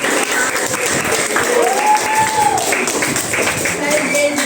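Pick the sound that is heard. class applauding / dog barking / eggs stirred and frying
class applauding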